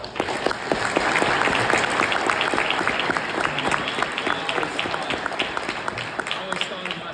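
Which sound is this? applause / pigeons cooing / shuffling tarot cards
applause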